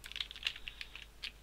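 Quick, light clicking of code being typed on a computer keyboard, a fast irregular run of keystrokes, close and fairly quiet.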